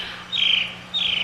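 Two loud, harsh bird squawks, each lasting about a quarter second, ring out close by with a short gap between them, over a low steady hum.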